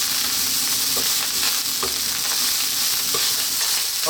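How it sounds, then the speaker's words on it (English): Loud, steady sizzling and crackling of rice frying in a hot pan, with occasional scraping stirs and no voices. "That's the rice actually frying."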